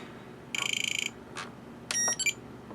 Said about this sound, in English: You're going to hear your initialize beep